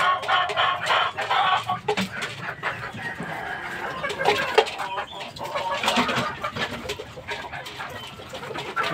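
Several hens cluck and chatter close by in a yard, their clipped calls overlapping in a busy, uneven stream, with a brief louder squawk midway.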